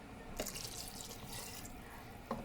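Water runs from a tap into a Cookeo multicooker pot while making berkoukech, a steady mid-level splashing stream with brief clinks at the start and end, no talking.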